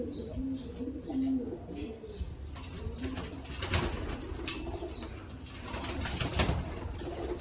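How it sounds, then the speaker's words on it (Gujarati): Pigeons coo softly from close by in a loose group while they feed, with faint chirps and a brief flutter of wings under light background noise. "બીજા બધા કબૂતરો છે બાજુમાં બેઠેલા છે"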